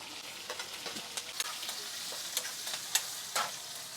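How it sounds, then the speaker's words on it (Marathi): Chillies, curry leaves, cumin, mustard seeds and fresh stone-ground ginger-garlic paste fry in hot oil, giving a steady close sizzle broken by small pops and the scrape of a stirring spoon, with no talking. "बघा मिरची मस्त परतून घेतली आहे"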